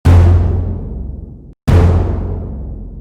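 An accent hit preset from the Nexus Hollywood 3 expansion pack strikes twice, loud and full. Each hit has a booming low body and a long tail that fades over about a second and a half, and the two are separated by a brief silence.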